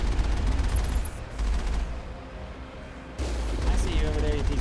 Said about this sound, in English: they're shooting me with rockets